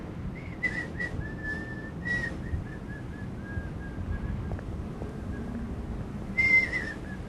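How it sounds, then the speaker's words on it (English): A character whistles a meandering, innocent-sounding tune in Call of Cthulhu: Dark Corners of the Earth, a thin clear melody over quiet ambient background, ending with a brighter rising phrase. "Just whistle innocently."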